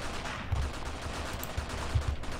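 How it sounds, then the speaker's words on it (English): Tank and anti-tank gun fire sounds in the Afghanistan-set war game Graviteam Tactics as a few dull, low booms heard at a distance over a rumbling battlefield background, with no talk. "that's almost certainly enemy tank fire or, at the very least, enemy anti-tank gun fire"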